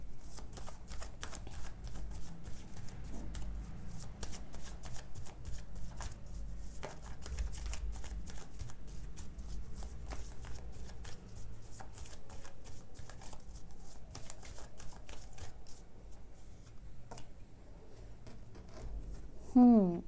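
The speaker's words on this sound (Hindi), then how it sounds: "मैं कार्ड शफल कर रही हूँ।" A deck of tarot cards is shuffled by hand in repeated soft riffles and slides, close and continuous, with quiet rustling throughout and a brief louder flick at the end.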